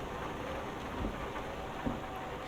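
Steady rain falling on a truck in Euro Truck Simulator 2, a constant dense hiss with a low rumble beneath and a couple of faint bumps, no voices.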